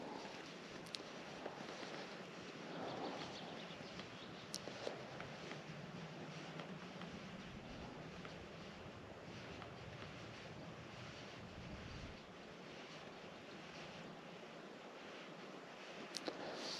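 Wind buffets a microphone beside Loch Doon during fly fishing, a steady broadband rush with gusts, faint lapping water beneath, and no talking.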